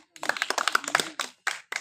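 Students in a physical education class clap hands together in a quick patterned burst, followed by a few separate claps, close and moderately loud with possible voices mixed in.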